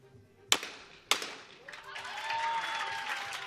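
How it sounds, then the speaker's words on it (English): At a women's junior skeet event, two sharp shotgun cracks ring out, then a crowd breaks into swelling applause and cheers that carry on to the end. "Well, once again, big cheers from the crowd"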